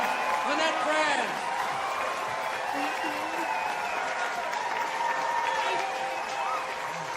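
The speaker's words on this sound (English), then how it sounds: "The crowd who just moments ago were on my side now applauded wildly for her." A crowd applauds wildly for a newly crowned homecoming queen on stage, a sustained wash of clapping mixed with cheers and voices throughout.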